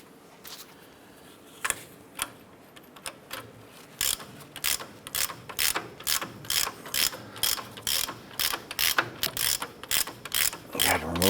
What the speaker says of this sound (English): remove that nut off of the ball joint